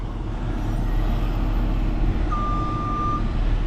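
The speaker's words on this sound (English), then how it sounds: "Look at that dump truck with all that dirt." A loaded dump truck hauling dirt rumbles nearby with a low engine drone, then one reversing beep sounds briefly partway through over the steady machine noise.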